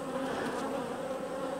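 Honey bees swarming around a queenless hive during a honey harvest, a dense steady close buzzing drone that holds without a break.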